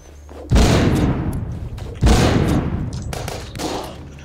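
A grenade explodes in the video game The Walking Zombie 2: two heavy, booming blasts about a second and a half apart, each with a long rumbling tail, followed by a fainter third thud.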